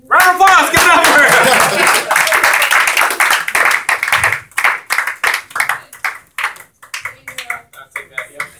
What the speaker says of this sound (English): Round of applause, give it up for her.